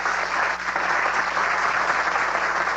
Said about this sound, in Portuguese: Sob aplausos, José Severino abraça sua mulher e vem receber seu troféu de honra